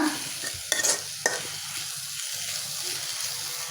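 Cabbage leaves lightly frying in a pan with carrot and green chilli: a steady close sizzle with a few clattering stirring scrapes early on.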